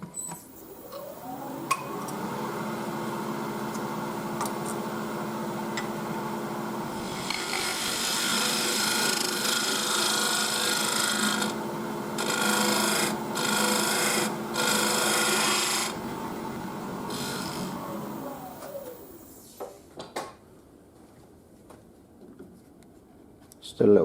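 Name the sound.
woodturning on a lathe with a parting tool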